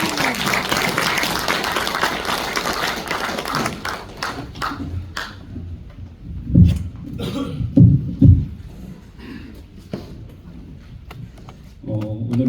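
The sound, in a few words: audience applause welcoming a lecturer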